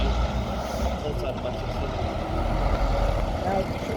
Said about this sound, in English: Another nice sounding coach there.